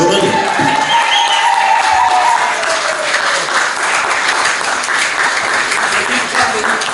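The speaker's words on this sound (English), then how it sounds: "give a big round of applause to Adrian and Candy, ladies and gentlemen." A studio audience applauds and cheers as two guests walk onto a talk-show stage, making a loud, sustained wash of clapping with some cheering and voices mixed in.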